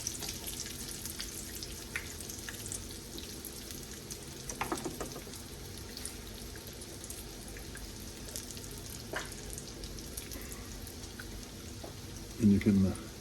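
Breaded eggplant slices fry in a pan with a steady, soft sizzle, fairly quiet throughout, with a brief clatter near the end and a faint voice in the background.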